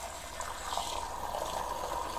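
Softened tap water pours steadily into a glass, a continuous rushing gush that stays even and moderately quiet for a couple of seconds with no talking.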